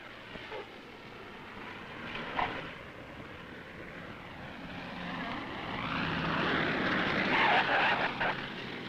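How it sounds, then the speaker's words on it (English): Propeller airplanes fly into Anchorage after the 1964 Alaska earthquake, an engine drone that swells and grows louder toward the end as one passes near, with faint background noise and no clear speech. "the planes start streaming in from the lower 48"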